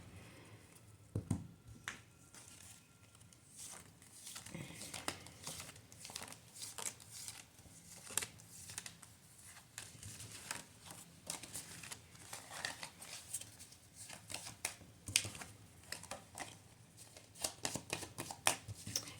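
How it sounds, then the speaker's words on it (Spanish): Tarot cards are shuffled over and over up close, a quiet run of soft riffling flutters and light taps with brief pauses between bursts. "cada pregunta que hago, tengo que barajar"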